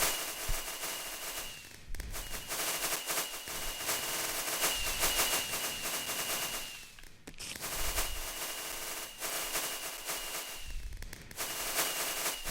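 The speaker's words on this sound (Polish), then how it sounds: "O, i tyle fajerwerków to można wystrzeliwać." Fireworks launching in the video game Minecraft, a dense rapid crackle of repeated pops and bangs that continues in long bursts with brief dips, moderately loud and without speech.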